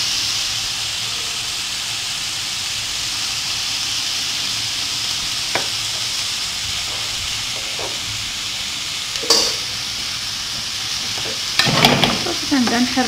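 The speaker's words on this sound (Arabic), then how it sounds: "صافي كنبدا نحركو حتى كتوجد لينا تاهي" Tuna filling stirred in a hot frying pan, a steady sizzle and hiss with occasional scraping strokes and a burst of louder clattering stirring near the end, no talking.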